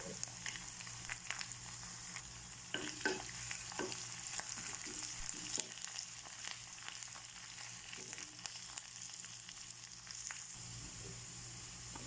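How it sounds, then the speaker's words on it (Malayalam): Chopped shallots, curry leaves and a dried red chilli frying in oil for a Kerala chena (yam) curry, a steady close sizzle with occasional stirring scrapes throughout, no voices. "കടുക് കൂട്ടുമ്പോൾ ചെറുതായി അരിഞ്ഞ ചെറിയ ഉള്ളി ഇടുക വേപ്പില ഇടുക ഒരു വറ്റൽമുളക്"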